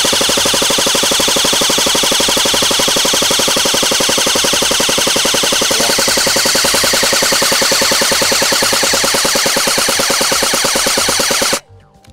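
An airsoft rifle on full auto fires one long, rapid, unbroken burst lasting about eleven seconds, loud and close, then cuts off abruptly.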